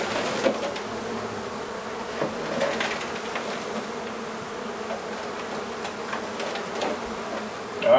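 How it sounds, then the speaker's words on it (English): A steady, dense insect buzz of many bees around a hive and nuc, humming continuously at close range, with a few louder passes and clicks, no voices. "They smell that queen, all these bees will start migrating over."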